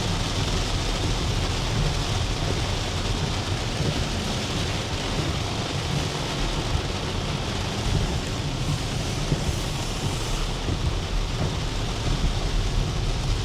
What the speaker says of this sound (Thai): ฝนยังหนักอยู่เลยนะครับ